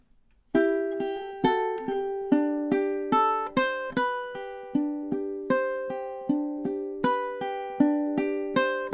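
Close, solo ukulele fingerpicking a soft lullaby passage of four measures, a steady stream of plucked notes that ring into each other at an even, unhurried pace.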